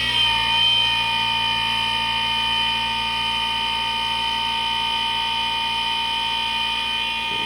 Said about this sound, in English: Now we get to burnish, so we're gonna crank the speed up.